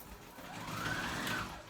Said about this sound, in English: And now we're going to do an edge stitch, 1/8 at the edge of that.